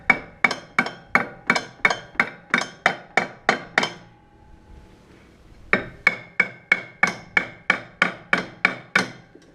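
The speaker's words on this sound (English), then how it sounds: "when in doubt, start hitting things with a hammer" A hammer strikes a Ski-Doo Alpine snowmobile clutch in rapid, even blows, a long run of sharp clanks, a short pause, then another steady burst of hits.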